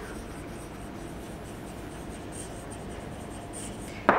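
Spelling words written on a board, a soft continuous scratch of strokes under low room hum, ending in a sharp tap, with no voice over it.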